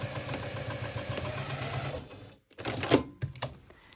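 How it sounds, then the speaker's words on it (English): A sewing machine stitches a double wedding ring quilt seam with a fast, steady, quiet whirr for about two seconds, pauses briefly, then runs in a few shorter bursts as a back stitch is made. "let's just sew along here. Do a little bit of a back stitch"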